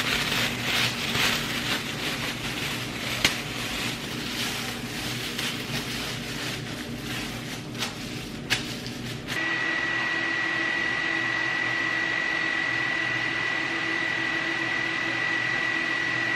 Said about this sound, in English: I'm just gonna sit under the dryer